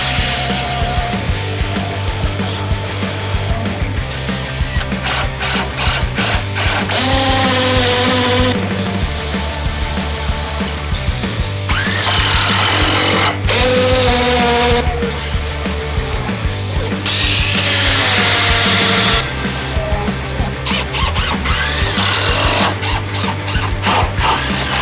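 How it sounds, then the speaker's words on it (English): A power drill bores into a concrete basement foundation, grinding loudly and steadily in long runs with brief pauses and shifts in pitch, no talking over it. "You do have to drill a 1/4 inch longer into the foundation than these are long"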